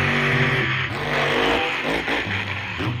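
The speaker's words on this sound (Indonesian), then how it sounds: "Wah, kita menemukan truk monster." An orange monster truck's engine revs loud and close, rising and falling in repeated pulls over a continuous rumble, with no talking.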